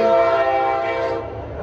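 An Amtrak train horn blares loud and sustained with rich harmonic tones, fading slightly toward the end as the train rolls past, with faint rumbling of the rail cars beneath.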